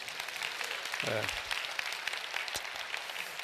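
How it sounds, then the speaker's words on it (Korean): A church congregation at a revival meeting claps in sustained, dense applause that fills the clip, with a brief voice rising over it near the middle. "주님께 큰 박수로 영광을 올려드리겠습니다."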